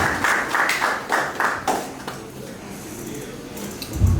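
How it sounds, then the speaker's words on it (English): Applause from an audience at a blockchain meetup in Nigeria, a short burst of rhythmic clapping that fades within a couple of seconds, followed by quiet room noise. "let's give ourselves a round of applause, please"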